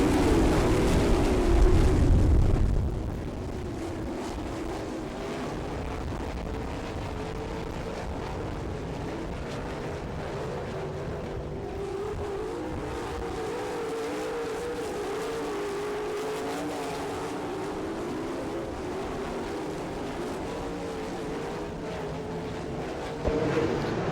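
Sprint race cars run laps on the Attica dirt track in Ohio, a steady far-off engine drone holding through the clip after a louder opening burst.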